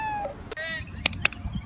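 A cat meows in a short series of bright, rising and falling calls at close range, followed by a few sharp clicks or taps, all over a steady low background hum.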